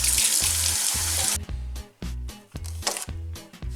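Green onions rinsed under running tap water, a steady close rush of water that cuts off, followed by intermittent splashes and handling noises.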